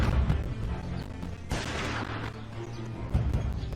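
Several sharp gunshots crack out at irregular intervals in a tense drama scene, with a rough, reverberant background between the shots.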